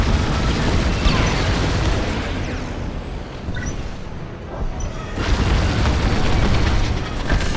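Explosions and heavy booms in the Star Wars Squadrons space combat game as shuttles are destroyed, dense roaring blasts filling the clip, a brief dip mid-way, then another loud burst near the end.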